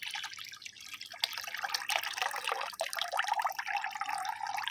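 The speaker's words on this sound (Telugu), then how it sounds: "నార్మల్ వాటర్ ఒక పది లీటర్ల ఆఫ్ వాటర్లో యాడ్ చేస్తున్నాను" About ten litres of plain water poured into a liquid fertilizer mix for hibiscus plants, making a continuous close splashing trickle with faint drips and no talking.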